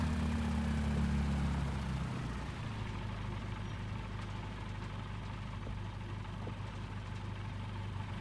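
A light aircraft's engine drones steadily while taxiing, close and continuous, with a heavier low rumble in the first two seconds before settling into an even run. No voices.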